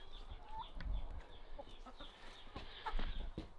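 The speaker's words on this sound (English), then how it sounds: "Right, we're back at the chickens that we bred from." Buff Orpington chickens cluck softly at a UK brooder hut, scattered quiet calls and faint rustling close by with a low background hum.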